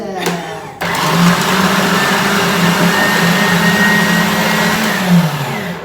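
Blender whirring loud and close as olive oil is mixed in, a steady motor drone that kicks in after a brief pause and runs continuously with slight wavering pitch until the end.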